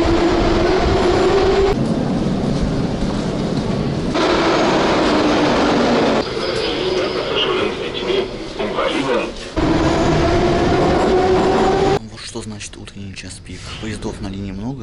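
A Saint Petersburg metro train ride toward Chernaya Rechka station, with loud, steady rumbling and a rising whine from the motors. The noise shifts in sections as the train runs, and quieter, more open sound follows near the end.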